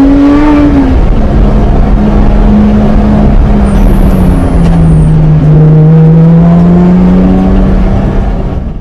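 A car accelerates hard along winding Luberon mountain roads, its loud close engine note rising and falling through gear changes in a continuous, sustained drive with no talk.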